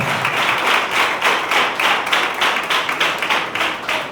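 Applause at a church anniversary celebration for Sunday school children's parents: a crowd clapping steadily and fairly loudly for about four seconds, rhythmic bursts blending into continuous applause.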